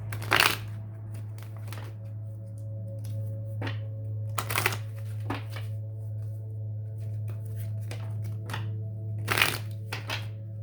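A deck of Greek mythology reading cards is shuffled in several quick, crisp bursts of riffling and sliding over a steady low background hum, with no talking.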